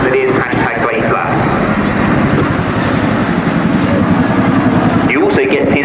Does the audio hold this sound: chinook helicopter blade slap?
yes